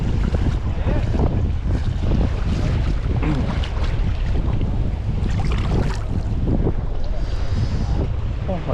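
Strong coastal wind buffets the microphone with a loud, continuous roar and gusty rumble while shore fishing for snapper and trevally, with faint surf beneath.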